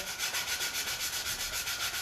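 Steady rhythmic scraping of sandpaper rubbed back and forth over wood for an insect hotel, close and continuous, with a regular pulse of strokes.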